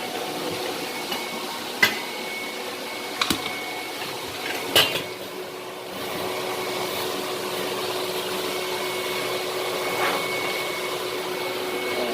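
Vacuum cleaner running steadily over a freshly sanded maple floor, a constant whirring drone with a few sharp knocks and clinks early on as the nozzle bumps along.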